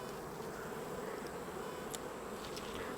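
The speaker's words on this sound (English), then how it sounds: "that's why there's so many bees right here." Steady buzzing of many honey bees, a continuous drone with occasional louder passes near the microphone.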